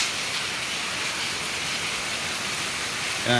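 Heavy rain pours steadily at night on open farm fields, a dense, even hiss that stays loud and unbroken, with no voices over it.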